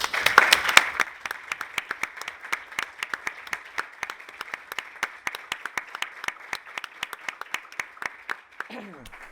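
A literary conversation event at the University of Cádiz ends in audience applause, which opens as a dense burst of clapping and then thins to scattered, evenly spaced claps that trail off.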